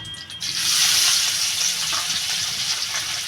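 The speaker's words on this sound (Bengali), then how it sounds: "কড়াইতে আমি তেল দিয়ে দিয়েছি তেলটা আমার গরম হয়ে গেছে আমি এবার মাছগুলো দিয়ে দেবো" Tengra fish frying in hot oil in a wok for a Bengali oil-and-chilli fish curry, a loud, steady close-up sizzle with no talk.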